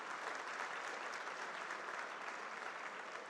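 Quiet, distant applause fills a university alumni awards hall for the Chancellor, an even wash of many hands clapping with no break.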